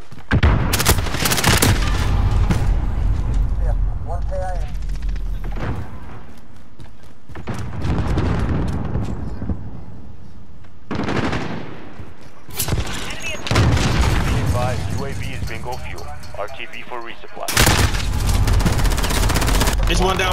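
Bursts of automatic gunfire in Call of Duty Modern Warfare multiplayer with an MP7, loud rattling volleys broken by quieter gaps, with a player's voice talking between the shots.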